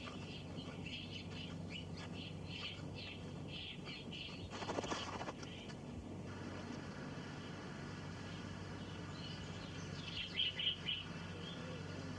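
Galapagos finches give short, high chirping calls, with a brief cluster of chirps near the end, over a steady low background hum.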